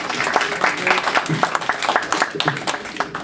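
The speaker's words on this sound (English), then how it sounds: "Can we please have a warm round of applause for the volunteers who have contributed so much of their time and effort?" Audience applause for volunteers at a village board of directors meeting, dense overlapping claps close by and mixed with chatter and voices.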